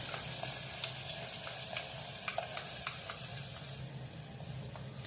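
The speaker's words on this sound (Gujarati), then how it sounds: "વટાણા ફૂટીને ઉડે છે એટલે આપણે એનું ઢાંકણ ઘડીક આડું કરી દઈશું" Peas popping and sizzling in hot oil in a pan for a pea and potato curry, a steady dense frying hiss scattered with small sharp pops, close and continuous.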